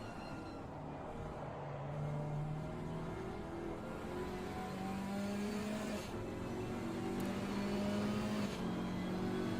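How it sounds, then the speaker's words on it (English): A GT4 race car in a sim racing game at Zandvoort revs and runs through its gears, the engine pitch climbing and dropping at several shifts under a fairly quiet, continuous drone. "Has a bit of a interesting gear sound, a gear shift sound."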